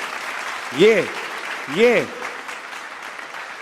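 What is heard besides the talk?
audience applause at a mushaira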